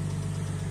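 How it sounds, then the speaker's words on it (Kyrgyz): A 2003 Lexus IS 200 with a 2.0-litre engine and an aftermarket sport exhaust idles in a brief, steady, low droning rumble heard up close. "Артында спортивный выхлоп орнотулган. Bir звугун угуп көрөйүкчү."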